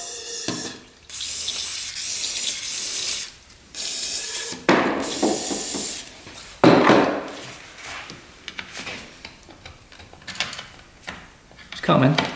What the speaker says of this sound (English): Squirt a bunch of penetrating oil in there so we can free it up.